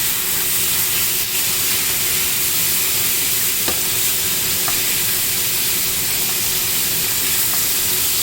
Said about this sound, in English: I'm going to stir fry it aggressively